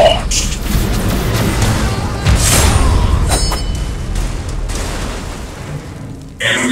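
A missile strike blows up a base in the mobile strategy game Command and Conquer Rivals. A booming blast rumbles over continuous game audio and voices.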